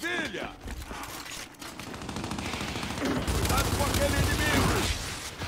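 Rapid machine-gun bursts rattle in Gears 5 multiplayer, repeated fire in loud sustained runs with a brief lull, and players talk over the shooting.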